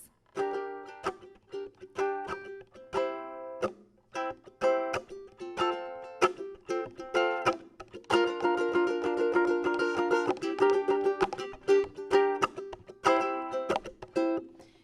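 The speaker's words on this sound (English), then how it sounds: "you might like to use a subdivided beat strum." A ukulele strummed in a quick, subdivided rhythm, bright and close, with chord changes and busier strumming in the middle passage.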